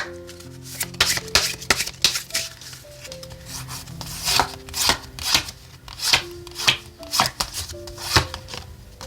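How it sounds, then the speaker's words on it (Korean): Oracle cards being shuffled by hand in a tarot reading make repeated crisp riffling bursts in an uneven rhythm, close and fairly loud, with soft background music beneath. "다른 오라클 카드 한 장 볼게요."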